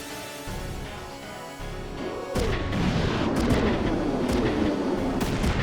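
Missile strikes in the mecha video game Front Mission set off a deep, booming explosion that rolls into a sustained rumble with crackling debris and scattered sharp impacts, loud and continuous.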